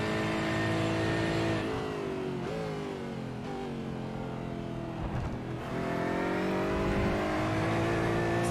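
A race car engine in a sim racing game at Donington Park drones steadily and loudly, revving up and down through gear changes, with a brief dip near a chicane before pulling again.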